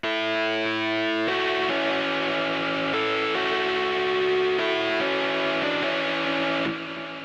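An indie game music track played with stereo delay and reverb: sustained, slightly distorted synth chords that shift every second or so, with echoing repeats smearing each note into the next, loud and unbroken.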